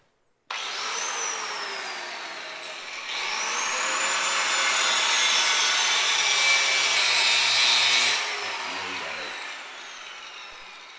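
An angle grinder cuts loudly near a basement foundation, a sustained high whine that climbs in pitch, strengthens after a few seconds, holds steady, then winds down and fades near the end.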